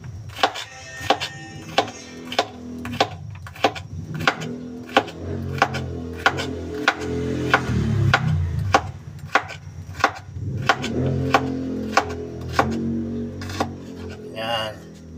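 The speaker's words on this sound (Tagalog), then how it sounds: "hiwain na natin. Manipis lang para hindi gaano mapait." A knife slices bitter gourd (ampalaya) thinly on a cutting board, steady rhythmic chops close by, roughly one every second, with a low background hum and faint speech underneath.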